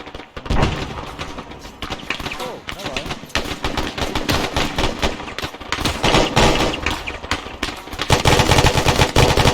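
Rapid rifle gunfire during a joint infantry squad training exercise in a field with tents, dense bursts and single shots overlapping nonstop, loud and close, with shouted voices mixed in.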